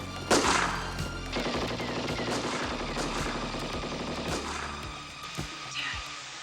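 Gunfire in an action movie crackles as rapid bursts and single loud shots over a tense score, with shouted voices in between.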